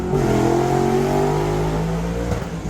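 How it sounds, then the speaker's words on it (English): Drag racing cars revving hard at Tulsa during Rocky Mountain Race Week, a loud sustained engine roar with rising and falling pitch dominating the background. "there's a whole bunch of drag racing going on in the background"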